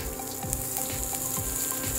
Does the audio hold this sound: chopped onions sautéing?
yes